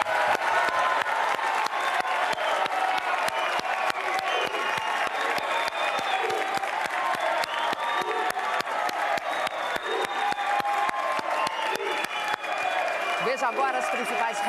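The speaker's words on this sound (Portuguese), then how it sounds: "uma salva de palmas para os nossos 8 debatedores" Audience at a televised Rio de Janeiro mayoral debate applauds its eight candidates, dense sustained clapping from a large crowd with some cheering, loud and continuous throughout.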